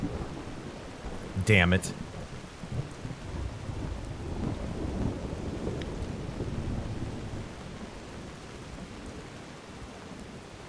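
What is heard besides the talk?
freezing rain and thunder in Skyrim video game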